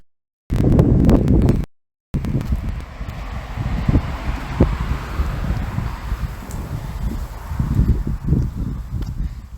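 Gusty wind buffets the microphone with low rumbling bursts in a nature reserve, and leaves rustle faintly throughout.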